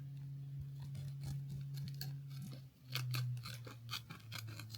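Scissors snip along the edge of a large gel-filled exfoliation sock, giving a run of crisp, close cuts with short irregular pauses, over a steady low hum.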